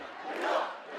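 A protest crowd in Ramallah roars as one continuous swell of many voices, rising to a peak midway and easing off, close and loud with no single speaker standing out.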